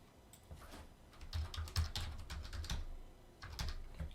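Quick bursts of clicking keystrokes on a computer keyboard, close and quiet, with short pauses between runs of typing.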